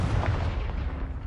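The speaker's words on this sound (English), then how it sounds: "You can't do Confringo quietly." A Confringo fire spell goes off in Hogwarts Legacy, a deep, rumbling blast that booms loud and close and then rolls on as a dense low roar for the length of the moment.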